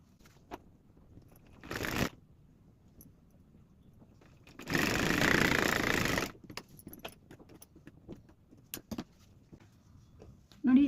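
A sewing machine stitches cloth for a hair scrunchie: a brief whir comes first, then one steady stitching run of about a second and a half, with soft handling noises in the quiet gaps.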